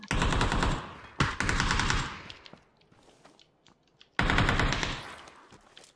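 Gunfire in the PUBG video game: two loud bursts of rapid automatic fire up close, a fading tail and quiet gap, then a third sustained burst, with no talk over them.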